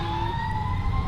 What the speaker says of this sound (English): you hear the sirens? Sounds like New York